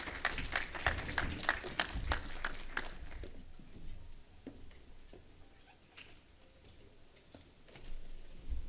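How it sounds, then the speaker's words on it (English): Audience applause at the close of a keynote talk at a BDC event: a burst of dense clapping for about three seconds, then a few scattered claps fading into a quiet murmuring room. "Another round of applause"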